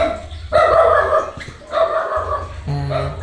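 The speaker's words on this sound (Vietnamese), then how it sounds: "Con chó nó sủa ồn quá" A dog barks loudly and close by in several short, harsh bursts, with a whimpering yelp near the end.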